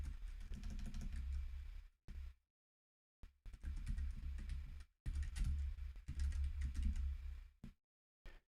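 Fast typing on a computer keyboard during a live DevOps and Docker show, loud and close, in several dense bursts separated by short silent pauses.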